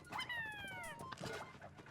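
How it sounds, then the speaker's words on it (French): A dog companion in the video game Pikmin 4 gives a short whimpering yip with a falling pitch, followed by softer snuffly squeaks, quiet and close. "Il est passé où mon chien?"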